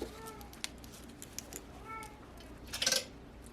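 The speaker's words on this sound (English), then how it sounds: "I have a cat making crazy sounds." A domestic cat meows a few times indoors, faint short calls separated by small clinks, with a sharper louder cry near the end.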